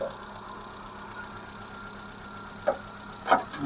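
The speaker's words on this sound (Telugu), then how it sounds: "బీటింగ్ కూడా చాలా అంటే చాలా సైలెంట్గా ఉంది." A 2009 Hyundai Santro Xing GLS, LPG/petrol with a manual gearbox, idles quietly in a smooth, low, steady hum, with a couple of brief clicks near the end.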